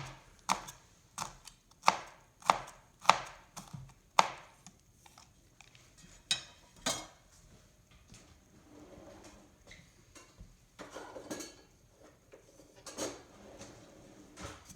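A straight, non-serrated kitchen knife chops a pepper on a cutting board for pico de gallo, with a quick run of sharp, close knocks, then sparser cuts and scraping with soft handling noises.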